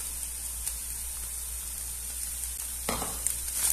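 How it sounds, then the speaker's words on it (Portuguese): Chopped onion and a bit of bell pepper sautéing with beaten eggs in a pan make a steady, even sizzle that runs alone throughout, with a brief louder burst of frying near the end. "Vamos dar uma misturada e deixar refogar aqui"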